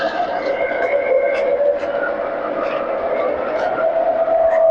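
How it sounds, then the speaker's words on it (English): Small model steam locomotive engine throttling up after warming, a steady cycling mechanical whir with a sustained tone that holds loud and even throughout. "Oh, yeah, we hear the engine coming up."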